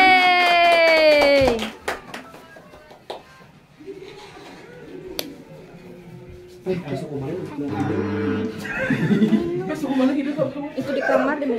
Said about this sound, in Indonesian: Oke, sekali lagi tepuk tangan untuk kita semua,